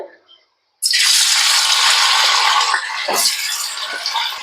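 Long-cut pieces of paneer drop into hot oil, and after a brief quiet a loud, close sizzle erupts suddenly and holds steady for several seconds, easing slightly toward the end.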